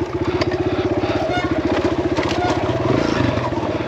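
A Kawasaki KLX140RF dirt bike engine revs hard and close while the bike rides over roots on an enduro trail, with rapid throbbing engine pulses and clattering bumps throughout.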